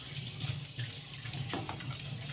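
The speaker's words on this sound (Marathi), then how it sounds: "पाण्याचा आवाज नका करू, हात धुवत बसल्यात" Tap water runs steadily into a sink as hands are washed, a close, continuous hiss with faint splashing and no talking.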